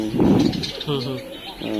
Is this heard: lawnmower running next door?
no